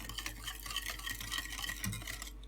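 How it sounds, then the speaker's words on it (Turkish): A spoon stirs a sugar, salt and yeast mixture for poğaça dough, making a quiet, steady scraping and swishing that stays close, with no speech. "Bir tatlı kaşığı şeker. Bir tatlı kaşığı tuz bir yemek kaşığı maya ilave edip hepsini karıştıralım."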